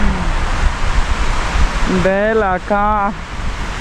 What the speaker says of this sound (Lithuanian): O Jėzau, kaip čia pučia vėjas.